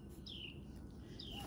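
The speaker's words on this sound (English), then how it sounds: "You hear the birds chirping?" Two short, faint descending bird chirps sound outdoors near a garden, roughly a second apart, over a low background hum.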